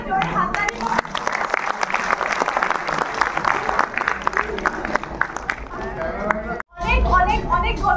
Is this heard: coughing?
no